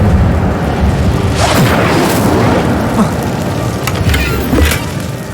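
An Incendio fire spell is cast in the video game Hogwarts Legacy, producing a loud, sustained roaring blast of fire that rumbles on for several seconds with a few sharper bursts.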